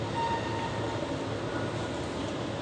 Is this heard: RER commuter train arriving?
yes